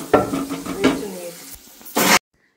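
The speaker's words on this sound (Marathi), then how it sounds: "इथे तेलामध्ये कांदा परतवून घेतलेला आहे" Onion frying in oil in an old kadhai, crackling sizzle with a couple of scraping stirs, close and fairly loud, ending abruptly.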